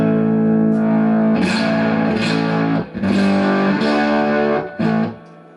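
Electric guitar through a Romany TR20 amplifier switching from clean to distorted tone, loud sustained chords turning gritty and saturated, played in several strums and ringing into a fade.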